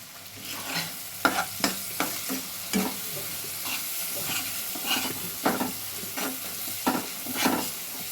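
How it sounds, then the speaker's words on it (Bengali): Spice masala with ginger frying in a pan over raised heat for egg curry, a steady sizzle broken by repeated scraping stirs that land in an irregular rhythm, close and moderately loud, with no voices. "বেশ ভালো করে মশলাটাকে ভেজে নিতে হবে, মানে কষে নিতে হবে, আদার গন্ধটা যেন না থাকে।"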